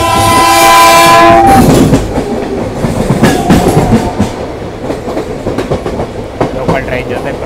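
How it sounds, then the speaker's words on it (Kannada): A local train passes close by with a loud horn blast at the start, giving way to heavy rattling and clickety-clack of wagons rolling past. "ಲೋಕಲ್ ಟ್ರೈನ್ ಜೊತೆ ಕ್ರಾಸ್ ಆಗ್ತಾ ಇದ್ದೀವಿ."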